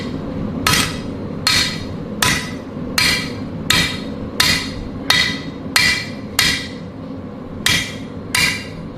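Metal hammer strikes land in a steady, evenly spaced rhythm of about a dozen sharp, ringing blows over a low background hum, close and loud, with no talk.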